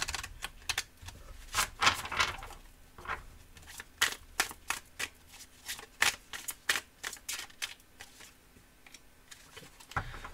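Oracle cards being shuffled by hand before one is drawn, a close, quiet run of papery flicks and riffles in uneven bursts, with no talking over it.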